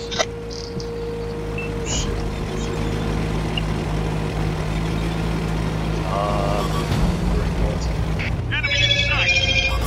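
A telephone rings near the end, bright repeating electronic tones over the steady engine rumble of a World of Tanks battle with a Tiger I tank, while players talk throughout.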